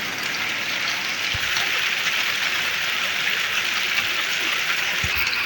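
Heavy rain falls at night in a Punjabi village in Pakistan, a dense, even hiss of downpour that holds steady throughout with a couple of faint thuds and no voices.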